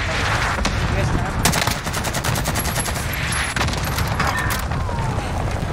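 Dense, continuous automatic gunfire in the video game Warzone, with rapid bursts from an M13 rifle and heavy shots layered over a constant loud battle din, close and unrelenting throughout.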